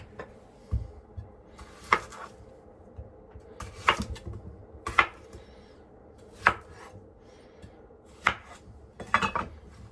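Potato pieces dropped into a slow cooker crock pot while preparing pot roast, heard as a series of sharp, close knocks and thuds spaced a second or so apart over faint kitchen background.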